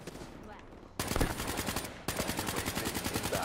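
Rapid automatic gunfire from a Call of Duty Black Ops 3 multiplayer match, loud, dense bursts of evenly spaced shots filling most of the clip, with a short quieter stretch before the firing starts.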